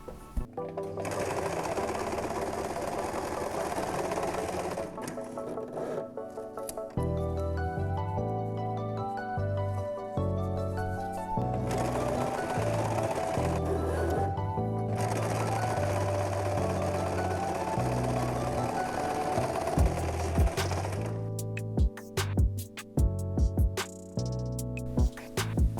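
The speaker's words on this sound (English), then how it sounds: "And then the other two seams, I'm going to just fold in and sew on top." A sewing machine runs steadily, close and loud, stitching folded seams on a homemade sling baby carrier, its motor humming almost continuously with short pauses and faster rattling bursts near the end.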